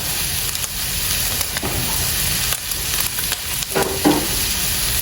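Garlic sizzles in a hot pan while being stirred, a steady close hissing fry with a few scraping stir strokes over five seconds and no talk.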